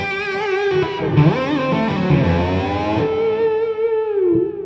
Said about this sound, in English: I have a lot of reverb and delay on there.